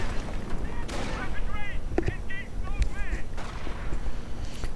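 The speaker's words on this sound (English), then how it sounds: "Further sniper fire." Sniper rifle shots crack out in a WWII strategy video game, a few sharp reports under a bed of battle noise and whistling sounds, with no voice over them.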